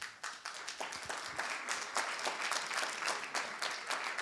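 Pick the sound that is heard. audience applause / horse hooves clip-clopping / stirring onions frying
audience applause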